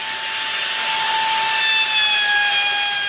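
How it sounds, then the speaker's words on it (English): A power sander works over a hand-planed pallet wood tabletop, giving a continuous loud whine with a steady high-pitched hum over a rough hiss. "Sanding up the top that I had hand planed because I don't have a planer anymore."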